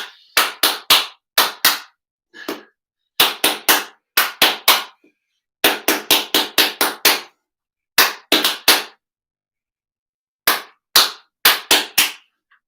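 Hand claps in short rhythmic bursts, groups of sharp claps separated by brief silences, loud and close, repeating a pattern over several phrases in a primary school music lesson.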